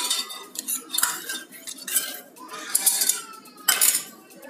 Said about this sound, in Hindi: दाल बन गई है, इसमें वो छौंकन डाल देंगे।